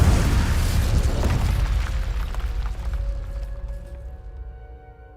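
Incendio fire spell going off in Hogwarts Legacy: a heavy booming burst of flame that rolls and slowly dies away over several seconds, leaving faint tonal game ambience behind.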